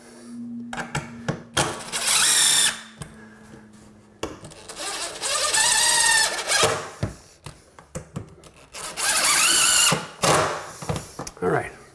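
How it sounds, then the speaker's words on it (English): A power drill drives a screw into a door sill during trim carpentry, its whining bursts coming in three long runs with short pauses and clicks between them, up close and loud, with no one speaking. "We actually want to drive the screw in till it's past the surface, and that gives us perfect compression."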